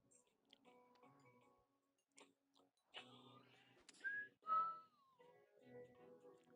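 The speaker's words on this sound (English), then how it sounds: "Part of my whistling." A person whistling a short tune while playing a golf video game, a few faint rising and falling whistled notes among quiet clicks and mouth sounds.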